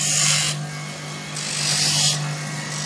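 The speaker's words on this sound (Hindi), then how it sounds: "ये पूरा रफ व्हील है जहाँ पर आप सीआर को डायरेक्ट ग्राइंड कर सकते हो।" Rough wheel of an optical lens edger grinding a CR plastic lens, a steady machine whir with a constant hum, broken by repeated harsh grinding bursts as the lens meets the wheel, with no voices.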